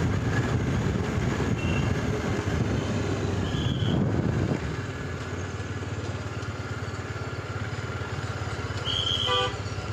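A train rumbles through Ghum railway station in Darjeeling, the world's highest station, with a heavy low clatter easing off midway and brief high toots of a horn sounding near the start and end.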